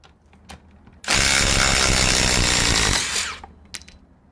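A Ryobi HP 4-mode impact driver backs out a long screw in one loud, close burst of rapid hammering that lasts about two seconds, with faint clicks before and after.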